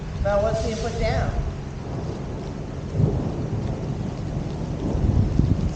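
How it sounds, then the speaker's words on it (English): Steady rain with low rumbling thunder fills the scene, a dense constant wash with a soft rolling swell near the end and a brief voice early on. "Listen to the rain. Maybe it'll start hailing. Watch for thunder strikes."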